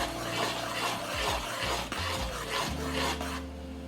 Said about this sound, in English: Then we're going to mix this up